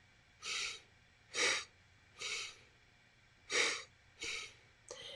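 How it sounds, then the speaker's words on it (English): During a yoga session, a person breathes in and out deliberately, six audible breaths in an even rhythm, each a soft airy rush, close and alone with no talking. "Inhale, exhale."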